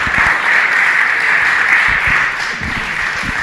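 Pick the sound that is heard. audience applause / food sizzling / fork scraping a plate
audience applause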